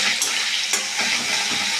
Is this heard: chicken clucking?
no